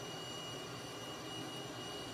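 Steady, fairly faint jet engine drone from a Cessna T-37B in a flight simulator game, an even whine and rumble held throughout with no talk.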